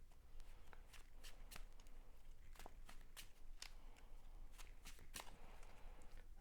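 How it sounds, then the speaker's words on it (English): A deck of cards for the Marvel Champions card game being shuffled close by, with a run of quick, crisp riffling bursts and soft flicks over several seconds, no voices. "we can shuffle up this encounter deck"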